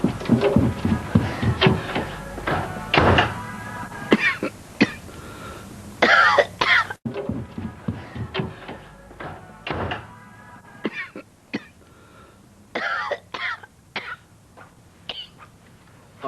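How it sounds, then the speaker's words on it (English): Repeated harsh coughing and throat clearing from an older man in a domestic drama setting, close and loud, coming in uneven bursts with short gaps across the whole stretch. "It's a nasty cough you got."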